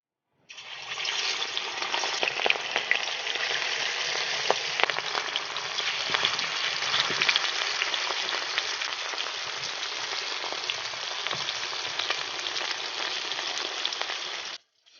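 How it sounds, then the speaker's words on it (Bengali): Catla fish pieces frying in hot oil in a kadai, a loud continuous sizzle and crackle from start to finish with no voices. "কড়াইতে তেল গরম হয়ে গেছে, কাতলা মাছের পিসগুলো আমি গরম তেলে ছেড়ে দিচ্ছি।"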